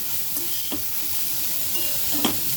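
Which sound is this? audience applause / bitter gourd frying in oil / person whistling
bitter gourd frying in oil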